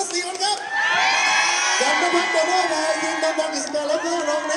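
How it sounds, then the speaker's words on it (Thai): A live stage show crowd at a shopping mall event cheers loudly, with sustained screams and whoops from many voices that swell and hold throughout, and some faint talk beneath. "ขอเสียงปรบมือให้กับพวกเรา"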